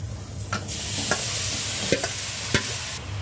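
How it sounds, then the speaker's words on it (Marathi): Grated carrot dry-fries in a hot kadhai without ghee for carrot halwa, giving a steady loud hiss broken by four or five sharp spatula scrapes, with no voices. "कढई गरम झालेली आहे, मी याच्यामध्ये हे खिसलेलं गाजर टाकते।"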